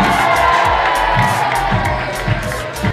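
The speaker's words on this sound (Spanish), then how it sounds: "Un fuerte aplauso para Iker Muniain" Stadium crowd in a football video game, loud continuous cheering and applause with scattered whoops, steady and dense throughout.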